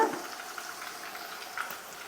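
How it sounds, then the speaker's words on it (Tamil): Onion paste sizzles and fries in hot oil in a pan for an egg gravy, a soft steady crackle with faint bubbling, close and alone. "வெங்காய பேஸ்ட்டு சேர்த்து நல்லா வதக்கி விட்டுக்கிட்டே இருக்கணுமா."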